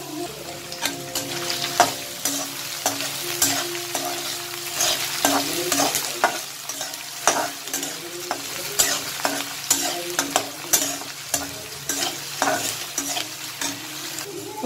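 Potatoes tossed into a pan with fried peanuts and onion, giving a continuous sizzle broken by frequent rhythmic clacks and scrapes of a spatula stirring, close and busy throughout.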